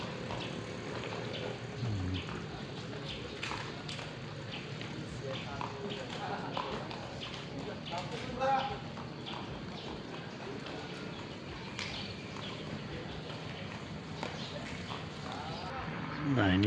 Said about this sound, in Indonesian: Ini kuda-kuda yang akan berlatih di pagi hari ini.